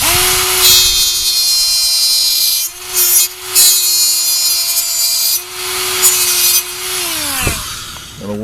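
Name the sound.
grinding a notch into a car door panel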